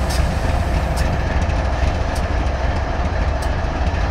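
Loud, steady rumble of a train nearby, a constant low roar with faint periodic clicks, heard alone with no voices.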